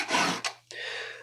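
Hand file rasping across the teeth of a new chain on a Stihl 034 AV chainsaw, two or three close strokes with a brief pause between them.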